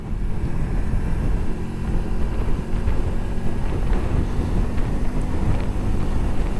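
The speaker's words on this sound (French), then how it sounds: "Mais il y a du vent, vous voyez." Steady coastal wind at Pointe de Kerpenhir, Locmariaquer, Brittany, rumbles and gusts against the microphone, a constant low roar with no one speaking.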